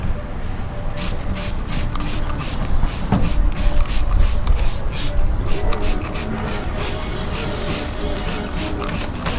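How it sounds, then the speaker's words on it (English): Degreaser sprays over a car engine bay in a steady hiss of repeated spritzes, broken by a few brief pauses while the nozzle moves across the engine. "we're gonna take our degreaser, whatever one you choose, and spray it all over"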